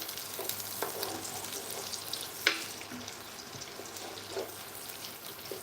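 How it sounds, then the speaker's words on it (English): Onions, one large white and a little purple, sautéing in a pan: a continuous crackling sizzle with occasional spatula stirs and one sharp utensil tap, alone without talk. "We're gonna saute these onions."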